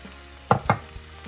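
Onions fry in a pan for Chettinad mutton chukka over a soft background sizzle, with two quick scraping stirs close by.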